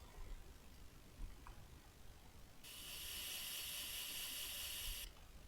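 Aerosol spray can hissing as rust treatment is sprayed in a garage on a box truck build, one steady burst of about two and a half seconds, fairly loud, after a quiet lead-in with a faint click.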